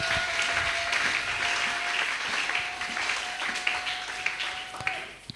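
A church congregation applauds at a Sunday service, sustained clapping from a crowd with scattered louder claps, fading slightly toward the end.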